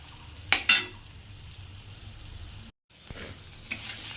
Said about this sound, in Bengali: দিয়ে এটাকে ভালো করে কষা নেব